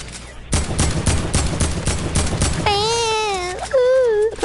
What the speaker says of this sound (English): I'm trying to shoot them down, but I can't.